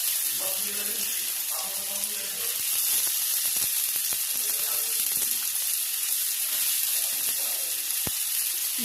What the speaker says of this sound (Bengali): পেঁয়াজ টমেটোগুলি ভাজা হয়ে যাক